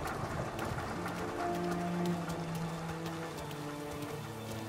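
Steady rain drums on a gas station roof in the video game Mafia Definitive Edition, a dense continuous patter with low rumbling underneath, while faint tonal game sounds drift in the background.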